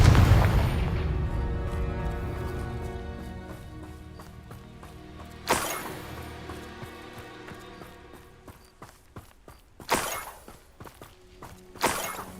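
Confringo explosion spell in Hogwarts Legacy: a heavy blast at the start with a long rumbling decay, followed by three sharper bursts spaced a few seconds apart, with footsteps and light impacts between them.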